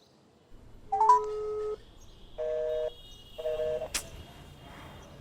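Telephone dialing tones: a few short electronic keypad beeps and steady tones in separate bursts, fairly clear against a quiet background with a sharp click near the end.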